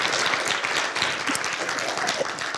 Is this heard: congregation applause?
yes